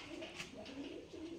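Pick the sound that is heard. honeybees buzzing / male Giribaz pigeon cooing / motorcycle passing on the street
male Giribaz pigeon cooing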